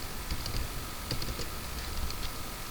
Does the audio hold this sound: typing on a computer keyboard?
yes